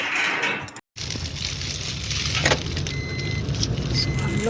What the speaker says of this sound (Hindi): और बाहर गाड़ी आ गई है